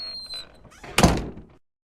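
A door being shut indoors in an old house of offices, a single close solid thunk with a brief rattle and settle, preceded by faint shuffling and a light squeak, then silence.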